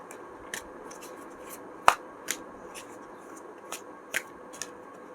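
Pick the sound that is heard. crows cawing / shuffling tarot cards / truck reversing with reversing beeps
shuffling tarot cards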